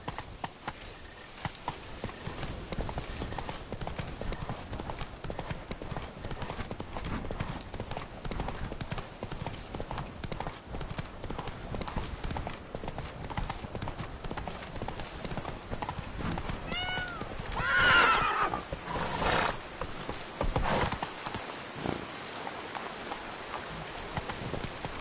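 Roach the horse gallops with steady clip-clop hoofbeats through rain in The Witcher 3: Blood and Wine, the drumming hooves continuous and close, with a brief neigh rising near the end and some faint talk in the background.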